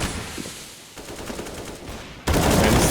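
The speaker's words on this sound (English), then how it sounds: "you could just shoot them through the wall" Counter-Strike gunfire on the Inferno map during a PGL Major Krakow 2017 match, with shots fired through a wall: dense, rattling bursts that swell into a loud, sustained volley at the end, with no commentary over it.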